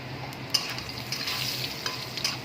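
Cumin seeds sputter in hot oil beside frying potatoes in a pan, giving a close, bright sizzle with small crackles and pops over a short span; nobody talks.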